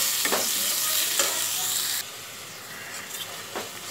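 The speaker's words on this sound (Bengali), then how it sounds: "এবার আমি দিয়ে দিচ্ছি কুচি করে রাখা টমেটো আর কাঁচা লঙ্কা। টমেটোটাকেও হালকা একটু ফ্রাই করে নেব" Chopped tomato and green chilli frying in hot oil, a loud, dense hissing sizzle close by with a few scraping stirs, the sizzle dropping slightly in level midway and continuing.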